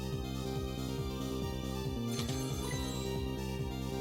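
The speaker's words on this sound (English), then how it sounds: "The phone is ringing." A telephone rings in the Ghost Trick: Phantom Detective video game, a steady repeating electronic ring pattern over a continuous musical backdrop, with one brief thud partway through.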